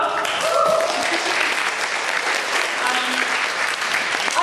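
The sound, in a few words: audience applause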